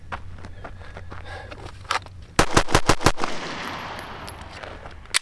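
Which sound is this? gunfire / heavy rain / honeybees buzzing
gunfire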